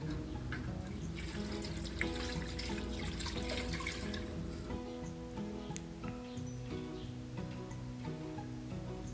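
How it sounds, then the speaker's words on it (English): Tap water runs steadily into a sink while bones or a carcass are rinsed under it, a continuous close splashing stream with irregular shifts as the bones are turned. "You want to make sure you thoroughly rinse the bones or carcass before using."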